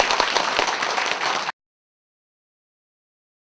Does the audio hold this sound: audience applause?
yes